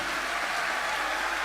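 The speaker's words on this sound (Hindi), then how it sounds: "जोरदार तालियां" Continuous massed clapping from an audience at a live Bhagwat Katha event in Harda, an even, unbroken hiss of applause with no voices on top.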